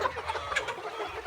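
Chickens cluck in a chicken house, a rapid jumble of short overlapping calls close by with no talk.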